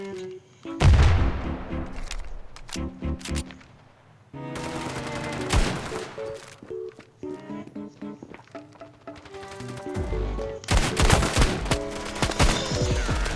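Desert Eagle pistol fire in a competitive video game match: loud, sharp shots and bursts come in clusters, separated by short quiet gaps and layered over other game sounds.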